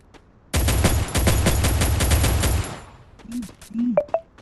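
Automatic gunfire in the Free Fire battle royale game, a dense two-second burst of rapid shots followed by a few short electronic game sounds.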